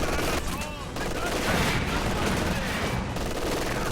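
Gunfire from an MG42 machine gun in a World War II style multiplayer match, a dense continuous rattle of automatic fire with other weapons and battle noise layered throughout, loud and unbroken.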